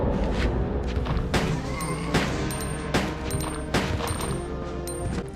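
Handgun shots from Leon in Resident Evil 2 Extreme Battle mode: about five sharp reports spaced roughly a second apart over a dense, loud background of game sound.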